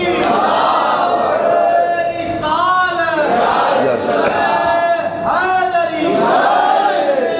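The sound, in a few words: crowd chanting slogan in response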